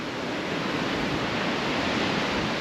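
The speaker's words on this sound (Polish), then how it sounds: "duże fale są" Big ocean waves on the Cape Town coast roar in a continuous, steady wash of broadband surf, loud and close, with no voices.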